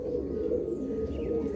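Pigeons from a prized breeding pair offered for sale coo in low, steady murmurs close by, a continuous soft purring that runs the whole moment without pause or voices.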